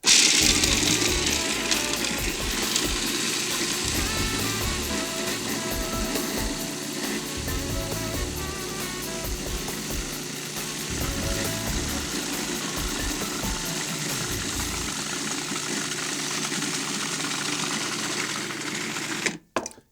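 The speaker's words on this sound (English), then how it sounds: "Food processor gets hooked back up." A food processor blending lemon and olive oil runs continuously for about twenty seconds with a loud, steady motorised whirr and rattle, stopping abruptly at the end.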